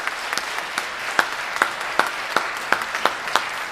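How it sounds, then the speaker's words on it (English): Audience applause after a school spring orchestra concert by a university high school orchestra and chamber orchestra, a steady dense clapping from a hall crowd with a few sharper claps standing out, no talk over it. "let's give one last round of applause for this amazing, amazing group of kids"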